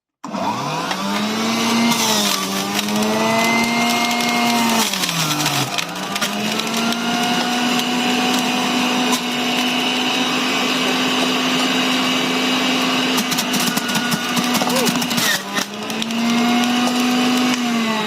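An electric juicer whirs loudly and steadily while it presses carrots, apples and oranges, its pitch dipping briefly at a few points as the produce loads the motor, with no talking over it.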